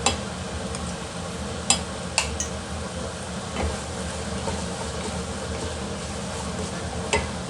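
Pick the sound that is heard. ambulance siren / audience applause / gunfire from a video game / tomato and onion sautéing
tomato and onion sautéing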